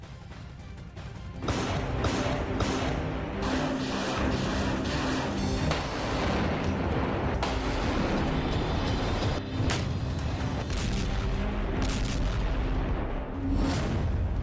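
Wartime shelling in Ukraine, near the Zaporizhzhia area, makes a loud, dense, continuous barrage of heavy booms and rumbling blasts that runs for the whole stretch with no pause.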